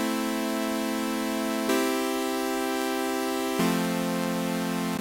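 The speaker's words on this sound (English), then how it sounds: "take some boring chords that sound like this" Plain sustained synth chords change twice over a few seconds, each block chord held flat and even with no rhythm, close and clean with nothing else heard.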